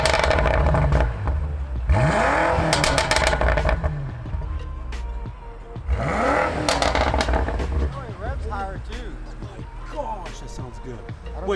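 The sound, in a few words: BMW M5 exhaust with open valves revving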